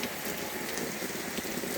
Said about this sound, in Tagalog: Thank you, Lord God, sa napakalakas na ulan.